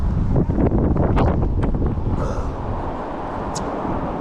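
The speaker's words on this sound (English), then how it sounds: "I'm in the wind now." Steady gusting wind buffets the microphone beside the River Irwell in Manchester, a loud rumbling roar that surges and eases, with faint higher sounds drifting through.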